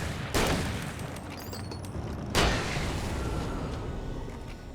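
Two loud shotgun blasts go off about two seconds apart in the horror video game Alan Wake, each a sharp broadband boom decaying into a rumbling game soundscape with faint whooshing effects between them.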